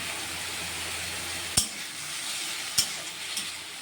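Yardlong beans sizzle steadily in a frying pan, with two sharp utensil clinks against the pan as they are stirred.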